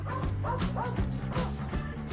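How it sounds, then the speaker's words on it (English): A dog barks inside a Trader Joe's grocery store, giving a few short, close yips and woofs in quick succession. "We never, Jax, we never bark inside a Trader Joe's."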